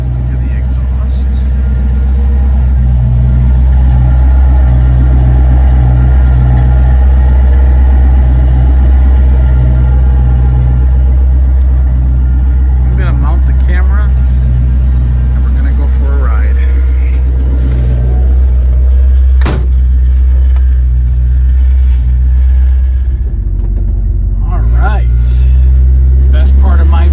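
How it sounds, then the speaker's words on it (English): A 1965 Ford Mustang V8 engine idles with a deep, steady exhaust rumble for the whole stretch, loud and close, with a few brief sharp clicks and some faint background noise. "Let's listen to the exhaust."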